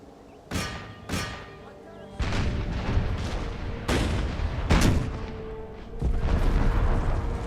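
Artillery volleys boom out in an Empire: Total War battle, several heavy reports landing at irregular intervals over a continuous rumble of distant gunfire.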